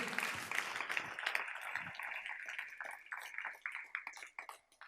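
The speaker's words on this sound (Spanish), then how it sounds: "Denle un fuerte aplauso a Cristo Jesús, Señor nuestro." A church congregation applauds, a sustained wash of many hands clapping that thins and tapers toward the end, with faint voices mixed in.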